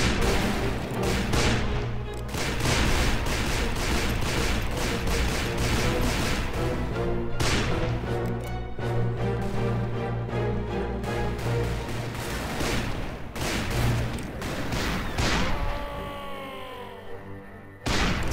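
Dense, sustained barrage of gunshots and booming blasts in the game Call of Juarez: Bound in Blood, with heavy game music underneath, loud throughout and thinning out near the end.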